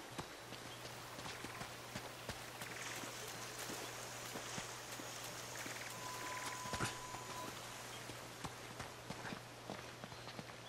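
A waterfall in Uncharted rushes as a steady, faint broadband wash of falling water, with a low hum and scattered soft ticks over it, continuous throughout.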